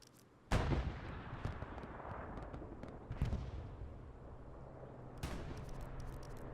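Strafing run gunfire in a video game match, with sharp loud bursts of firing and rumbling impacts recurring several times over a continuous battle din.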